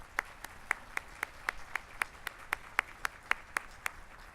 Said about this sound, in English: how about a nice round of applause for all of the award recipients again?